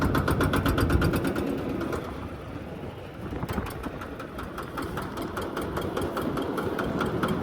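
A corn sheller machine's engine runs loud and steady, a continuous mid-to-low rumble with rapid regular pulsing and a slight surge partway through as the throttle is opened.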